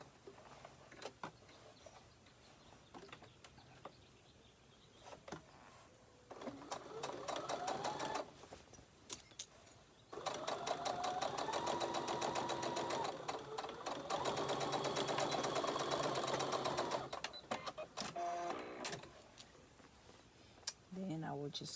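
A sewing machine stitches across the fabric lining of a book sleeve. Short whirring runs give way to a longer, louder stretch of rapid, steady stitching, then it slows into brief bursts.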